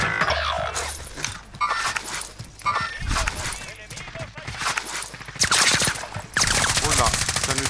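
Bursts of gunfire in a shooting video game crackle through the scene, rapid and fairly loud, mixed with game noise while players talk over it.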